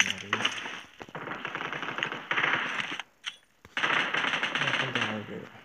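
Automatic gunfire in a video game match rattles in long, rapid bursts. It pauses briefly near the middle, then resumes loud and close.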